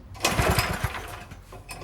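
A Honda GX340 generator engine, hot with the choke off, catches briefly with a few loud low pulses that rumble and fade within a couple of seconds; no talk.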